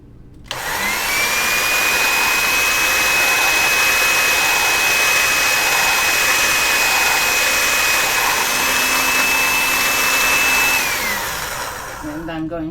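A machine running continuously as a polymer clay flower cane is fed through it, a loud, steady whirring drone with a high whine that starts abruptly and holds for about twelve seconds before winding down.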